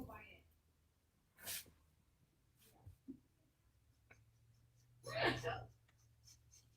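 A single sudden sneeze, short and fairly loud, near the end of a quiet stretch with faint scratchy writing or drawing noises and small clicks before it.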